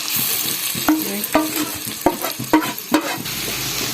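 Boiled bottle gourd sizzles in ghee over a high flame while a carrot and bottle gourd halwa is being cooked. Steady frying hiss sits under a series of distinct scraping stirs from a spoon in the pan, spaced roughly every half second.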